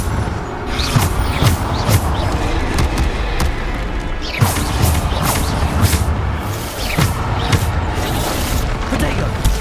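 Explosive booms of the Bombarda blasting spell in the Hogwarts Legacy video game burst repeatedly amid dense combat noise, with heavy thuds recurring every second or two over a constant loud battle wash.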